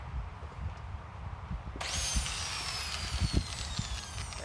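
A power drill whines up to speed partway through, a high steady tone that slowly drops in pitch, close and continuous over low clattering knocks from a Victor 11-497 stationary engine being turned over.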